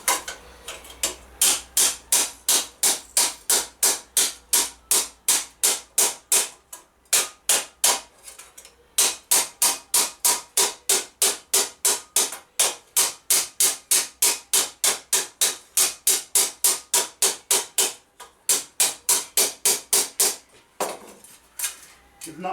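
Light, rapid hammer taps on a steel armour lame for a medieval arm harness, in long steady runs of evenly spaced metallic blows with a couple of short pauses, close and fairly loud, with no talking.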